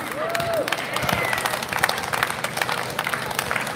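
Crowd applause and cheering at a Stop Asian Hate rally outside Irvine City Hall, a dense burst of clapping with shouts and whoops that holds steady throughout, fairly close and loud.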